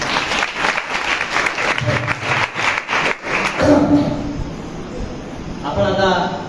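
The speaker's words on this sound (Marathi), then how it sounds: "रविदादा जोरदार टाळ्या रविदादा." An audience at a kirtan devotional gathering bursts into loud, sustained applause, a dense wash of many hands clapping nearby that swells and then gradually thins.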